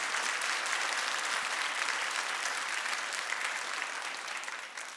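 A church congregation breaks into steady, dense applause of thanks, continuous and even for several seconds before easing off slightly at the end.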